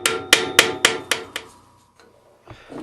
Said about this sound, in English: use very light hammer blows here. You just want to rivet the pin